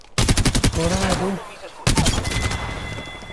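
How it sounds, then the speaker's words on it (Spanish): Rapid bursts of gunfire in the online shooter Apex Legends, loud and close, in two quick volleys with a short gap between them, mixed with vocal sounds and game effects. "Me disparan."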